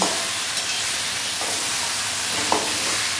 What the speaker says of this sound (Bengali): তো এইভাবে আমি কাঁকড়াটাকে ভেজে নিচ্ছি।